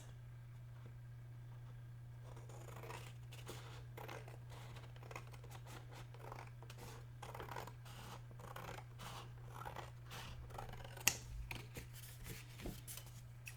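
Scissors cutting paper for a handmade Halloween bookmark, a close, quiet run of small snips and crisp rustling over a steady low electrical hum.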